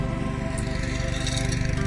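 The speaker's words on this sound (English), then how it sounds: "a lawnmower started and barking dogs" A lawnmower runs nearby beside a huge moss bog, its engine droning steadily with a rattling pulse, loud and constant throughout.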